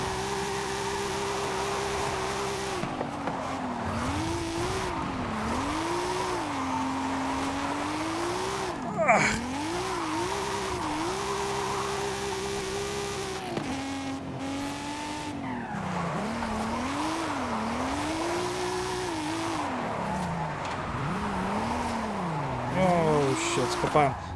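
Lexus SC300 drifting in Forza Horizon 5, its engine note rising and falling steadily through repeated slides, with tyre squeal running under the revs for the whole stretch and someone talking over it.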